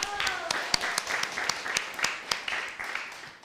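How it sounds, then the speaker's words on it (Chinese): Church congregation applauding during a Christmas praise service, a steady patter of many hands with sharper individual claps popping out, fairly close and continuous under faint voices. "大家给他欢呼哈"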